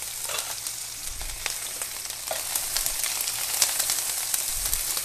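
Multicoloured bell peppers and red onion sauté in a hot pan, giving a steady close sizzle with scattered crackles and occasional stirring scrapes, with no voices.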